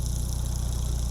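A Chevy Sonic RS engine idles after break-in, a steady low rumble with a fine even pulse, close and constant for about a second.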